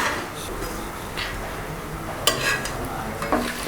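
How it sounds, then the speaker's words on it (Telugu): Cloves, cardamom, cinnamon sticks and bay leaves frying in a little hot oil for vegetable biryani, a steady low sizzle with occasional scraping clinks of a spoon against the pot, close by and without talk. "కొద్దిగా ఆయిల్ వేడెక్కాక లవంగాలు, ఇలాచి, దాల్చిన చెక్క, బే లీవ్స్ అన్నీ వేసుకుని 1 నిమిషం పాటు వేయించుకోవాలి."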